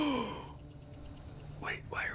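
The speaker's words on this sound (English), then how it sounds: "Wait, why are we gasping?" Characters in Tiny Tina's Wonderlands let out an audible breathy gasp at the start, followed by quiet pause and short spoken voices.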